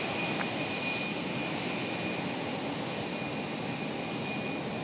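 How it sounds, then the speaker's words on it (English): An Airbus A319 jet airliner at Raleigh Durham airport gives off a steady, distant, low-level broadband engine hiss and rumble with thin high whine, unchanging and without voices. "Here is the A319."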